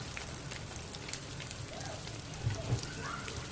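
Steady, quiet crackling and sizzling of pişi dough frying in hot oil over medium heat, a dense patter with a couple of soft bumps.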